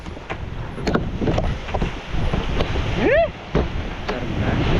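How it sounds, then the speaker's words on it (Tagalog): Gusty wind buffets the microphone with a steady rushing roar, and a brief rising and falling whistle-like tone cuts through near the middle. "Kalakas ng hangin."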